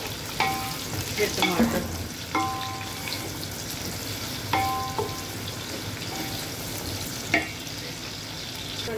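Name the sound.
onions frying in a pan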